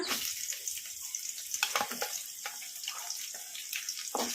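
Onions sizzle in hot oil in a pan for cashew masala rice, giving a bright, continuous hiss with scattered crackles and pops, close and fairly quiet.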